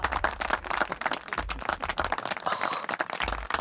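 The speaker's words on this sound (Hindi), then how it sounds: "तालियां।" Clapping and applause in a Hindi-dubbed film scene, a quick burst of close hand claps with uneven rhythm, fairly quiet and continuous for a few seconds.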